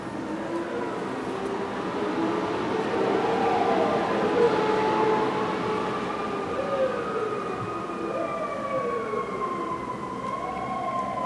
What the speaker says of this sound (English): Lots of sirens tonight.